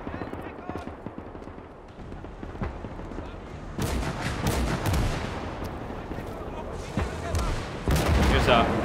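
Artillery blasts and small-arms gunfire rage in the Gates of Hell war game during a siege of Königsberg, with dense rifle and machine-gun crackle building to heavy booming impacts, while someone talks over the battle.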